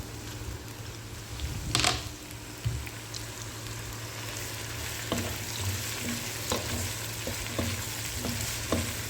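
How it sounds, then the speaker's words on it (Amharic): Tomatoes frying with carrots and onions in a pan, a steady close sizzle with a few clattering stirs early on, then a run of light, regular ticks and pops. "አሁን ቲማቲሜን ጥብስ አድርጌ ከካሮቱ ጋር ከጠበስኩት በኋላ"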